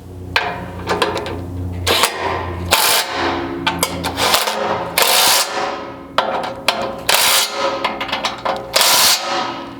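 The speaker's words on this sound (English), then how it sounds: "take your 19mm socket and tighten up both of these on each side" A 19mm socket wrench ratchets in repeated bursts of rapid, sharp clicks, close by, tightening rear bumper bolts on a second-generation Toyota Sequoia, with short pauses between strokes.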